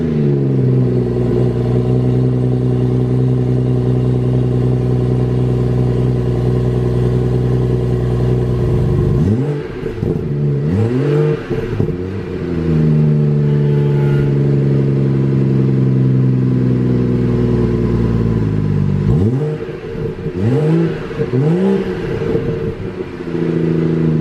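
A 2017 BMW 340i sports sedan's engine idles with a deep exhaust note, then revs sharply twice, roaring up and settling back each time.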